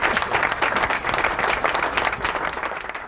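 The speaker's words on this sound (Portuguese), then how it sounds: "Palmas!" Dense crowd applause welcoming a guest onto a running-training live show, a continuous wash of many hands clapping at a steady, fairly loud level for three seconds.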